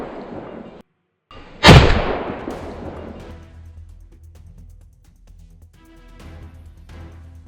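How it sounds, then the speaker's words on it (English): A single sharp, loud gunshot cracks out during a wild boar hunt and booms away into a lingering outdoor echo, followed by quieter faint rustling and distant rumble. "I unleashed a burst of fire at the 2 largest ones"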